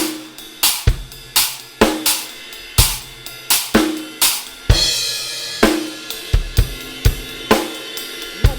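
A drum kit plays a groove with a three-note stack pattern over 4/4 and lands on a crash cymbal: sharp, evenly spaced hits with a bright crash splash near the middle, loud and close with no talking.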